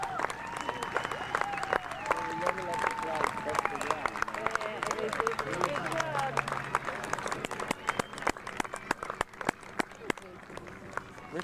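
Dense crowd applause at an outdoor Space Day event in Massachusetts for the Air Adventures Parachute Team, steady clapping throughout with speech and crowd babble mixed in.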